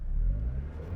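A 1999 Mazda MX-5 Miata NB with a five-speed manual launching from about 2,500 RPM, a low engine grumble that rises briefly and then sags as it bogs, heard close and without talk.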